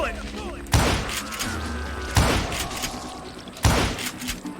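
Gunfire in the Western shooter Call of Juarez Gunslinger comes as three heavy, booming shots spaced over a few seconds, each with a thudding attack and a lingering tail over a low background bed.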